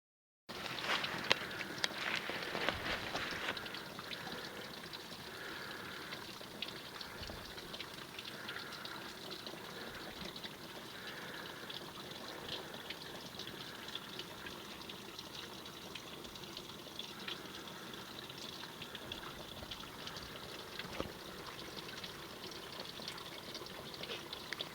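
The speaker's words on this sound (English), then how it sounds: "Now we're just above that little waterfall" A small waterfall in a glen pours steadily for the whole stretch, a soft continuous rush of water that stays faint and fairly distant, with no voices.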